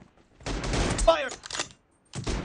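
Close, loud bursts of automatic weapon fire in a mobile team deathmatch shooter played on an iPad, one long volley followed by a short gap and a second burst.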